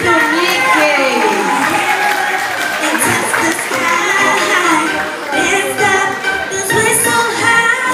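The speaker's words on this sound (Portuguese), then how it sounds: "Palmas pra mim e pro Mickey!" A fashion show audience cheers and claps in a steady, loud roar of crowd noise, with shouts rising above the clapping and a voice speaking over it throughout.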